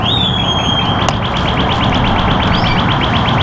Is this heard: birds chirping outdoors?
yes